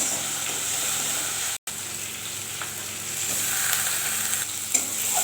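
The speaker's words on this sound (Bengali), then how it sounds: "পেঁয়াজটা ভাজা হলে দিয়ে দেবো টমেটো" Onion paste with green chili, then tomato, frying in mustard oil in a pan for a catla fish curry: a steady close sizzle with stirring scrapes, one brief dropout midway.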